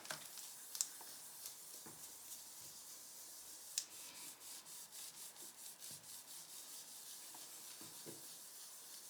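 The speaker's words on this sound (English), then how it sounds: "I'm gonna rub it all clean" A cotton pad soaked in nail polish remover rubs a paper savings tracker clean. The soft, faint, repeated scrubbing strokes come close up, with a few light taps and no voices.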